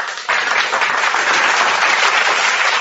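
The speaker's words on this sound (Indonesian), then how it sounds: "kita tepuk tangan." Sudden dense applause from a crowd bursts out after a brief pause and carries on loud and steady, a thick wash of many hands clapping close by.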